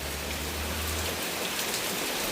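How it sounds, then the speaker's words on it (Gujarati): Heavy monsoon rain pours down on a farm in a dense, continuous hiss, loud and close, with a low rumble fading out partway through. "હવે વરસાદ એવો ચાલુ થયો છે"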